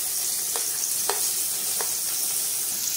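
Chopped onions sizzle in hot oil with cinnamon, cloves and cardamom, a steady, even frying hiss with a few faint clicks of stirring and no talk.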